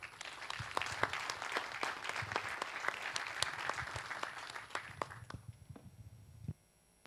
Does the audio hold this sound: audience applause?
yes